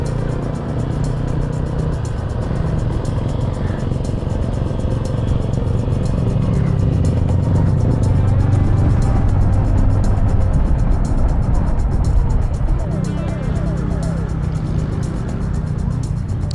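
A Honda Click 150 scooter rides through slow traffic in Laguna, with a steady loud engine drone and road rumble close by, plus wind buffeting, continuous throughout.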